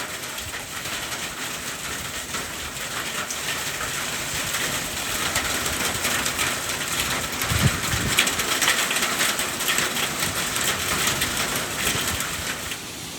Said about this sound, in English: We got hail falling down.